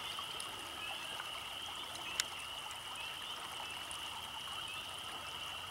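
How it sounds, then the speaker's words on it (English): Water trickling steadily along a roadside ditch that a beaver is damming in Northern Wisconsin, a faint continuous flow heard alone with one brief sharp tick partway through. "they got running water right here"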